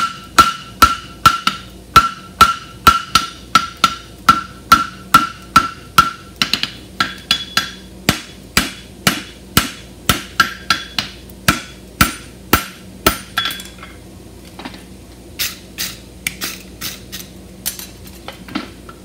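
A thick steel horseshoe for a European hind bar shoe is struck again and again with a hammer to flatten it. Sharp metallic blows ring in a quick, steady rhythm close up, then slow to scattered lighter taps.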